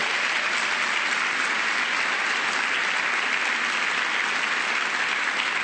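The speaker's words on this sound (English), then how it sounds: "he deserves a real round of applause" Steady, dense audience applause fills a summit hall at a national prescription drug abuse event, continuous and even throughout with no breaks.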